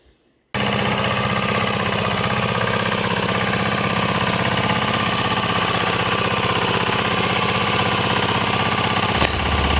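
A gearbox-repaired engine runs steadily during a transmission test, a loud continuous idle with a rhythmic mechanical chug that holds evenly for nearly ten seconds with no talk.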